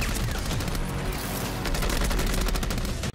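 A .308 Vector assault rifle from The Division 2 fires a rapid, continuous burst of loud shots that crackle densely for about three seconds and then cut off abruptly.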